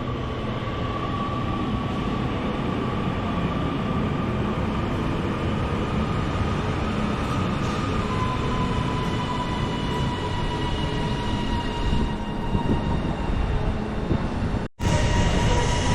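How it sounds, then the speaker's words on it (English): A Northern class 331 electric multiple unit pulls into Bolton station on a Blackpool North service, a steady loud rolling rumble with a rising motor whine held throughout, alone without speech. "In comes the 1722 Northern service to Blackpool North."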